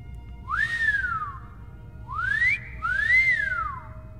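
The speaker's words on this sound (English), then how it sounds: "Done well? You mean I finally know how to whistle? Hey, horse whistle, finally." A rising-and-falling whistle from the horse whistle in a modded Skyrim game, sounded three times as clear, fairly loud tonal sweeps over a low steady background.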